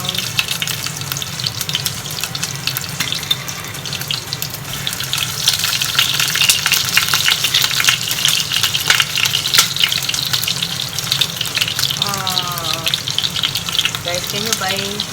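Meatballs fry in olive oil in a pan with a constant crackling sizzle close by, louder in the middle, with some stirring and a brief trickle of water near the end.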